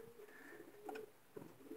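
Pigeons coo softly and repeatedly at close range in a breeding loft, low throaty calls rising in short bursts over a quiet background.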